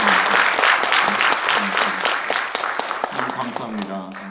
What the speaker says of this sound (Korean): 우리 한번 크게 박수하시겠습니다